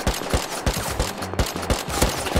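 Gunfire in the survival video game Rust, a rapid burst of sharp, punchy shots in an uneven rhythm, loud and close with no voices over it.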